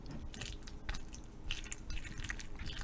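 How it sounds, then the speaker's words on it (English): Fish meat being stirred into mac and cheese, a continuous wet squishing and sticky churning that swells in a few louder pulses, close and alone with no talk. "Let's add it to our mac and cheese and stir it in."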